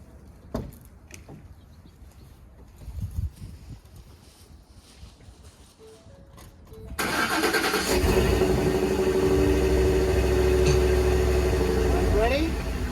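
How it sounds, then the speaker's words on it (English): A 2010 Ford F-150 truck engine cranks and catches midway, then holds a loud, steady idle with wind noise over the microphone; quieter handling sounds come before it. "So I'm going to start her up and slowly back up these ramps."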